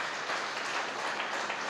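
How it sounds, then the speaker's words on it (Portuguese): Church congregation applauding during an evening Sunday service, a dense, steady wash of many hands clapping at once, loud and close, with no pauses across the short stretch. "Eu queria que a igreja aplaudisse ao Senhor pela vida desses irmãos"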